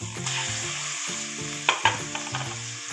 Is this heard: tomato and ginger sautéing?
yes